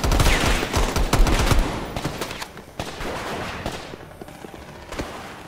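Gunfire in the Black Ops Cold War campaign: dense, loud rapid-fire bursts at first that thin out into scattered single shots and fade toward the end.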